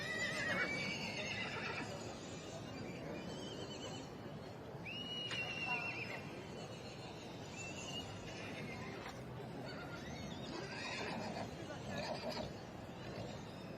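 Welsh Mountain pony broodmares in a show ring, with several faint whinnies rising over a steady crowd and arena murmur, plus soft hoof sounds and some distant talk.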